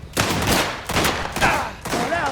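Gunfire in the game Mafia: The Old Country crackles in four loud, closely spaced bursts of shots echoing indoors.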